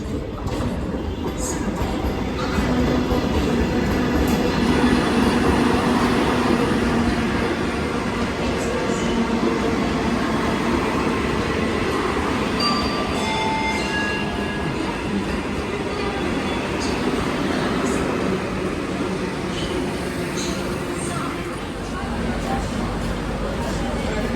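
A Vande Bharat train rumbles steadily through Krishnarajapuram railway station in Bangalore, with a continuous rolling noise and faint crowd babble and voices in the background.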